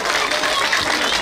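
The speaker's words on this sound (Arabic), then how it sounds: "تصفيقة أخرى، تصفيقة أخرى" An audience claps for a girl at the closing ceremony of a children's amusement village event, a dense, steady burst of applause from a crowd.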